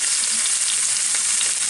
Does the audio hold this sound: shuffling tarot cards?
no